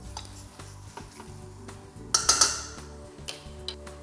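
Spaghetti bolognese sauce being stirred in a pan, with light scraping and clinking of a utensil against the pan in irregular taps and a brief louder clatter, over a steady low simmering hum.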